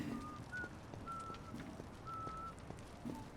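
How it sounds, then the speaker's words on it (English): Someone whistles a few short, steady notes with pauses between them, quiet against a busy background of noise during a livestream. "Who's whistling?"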